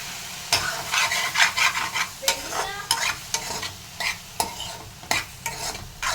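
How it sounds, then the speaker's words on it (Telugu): Frying on a low flame, with a soft sizzle under repeated rhythmic stirring scrapes of a spoon against the pan, close and clear with no talking. "సిమ్లో పెట్టుకొని ఫ్రై చేద్దాం"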